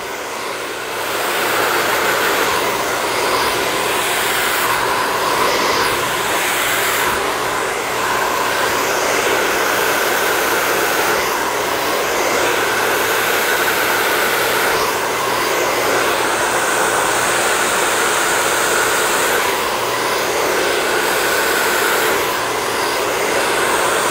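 A handheld hair dryer blows on the bangs during a layered haircut, a loud, steady, high-pitched whir that holds nearly constant with slight shifts as it moves, and no voices over it.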